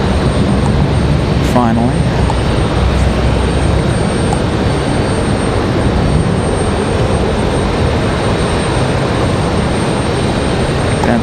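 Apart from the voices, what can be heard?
Icelandair airliner coming down the hill at RDU airport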